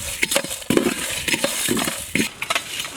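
Whole spices for chicken mandi tumble into a hot pan and are stirred while they roast, giving a scraping, rattling clatter with a faint sizzle. Stirring strokes come in irregular bursts, close and moderately loud, with no talking.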